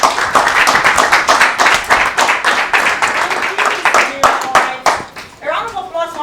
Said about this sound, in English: A round of applause one more time for Samira.